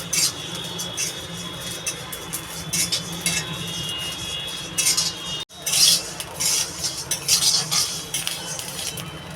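Rice grains being stirred with a small broom-like stirrer in a hot pan as they puff, giving a steady dry scraping and rustling with faint clinks, continuous and close, briefly cut off mid-clip.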